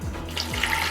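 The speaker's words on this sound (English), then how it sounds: "Water." Water pours into a Ninja Foodi pot holding pork butt steaks, thyme and beer, a brief splashing, trickling stream heard up close with no talk.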